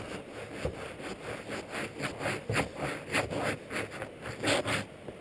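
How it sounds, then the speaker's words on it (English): Ice on a frozen river crunching and grinding underfoot, rough scraping steps repeating at a steady walking pace, close and fairly loud, no talking. "Even now I can hear the ice."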